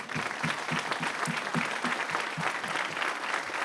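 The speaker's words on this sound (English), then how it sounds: "So just give a round of applause." Steady applause from an audience at a spring school instrumental concert, dense continuous clapping that holds evenly throughout without any talking.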